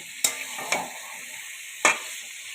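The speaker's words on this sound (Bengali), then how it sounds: "তেলে ভালো করে একটু ভেজে নেব।" Chicken pieces fry in hot oil in a pan, a soft steady sizzle broken by a few sharp scrapes and clatters as the pieces are stirred, close and fairly quiet, with no talk.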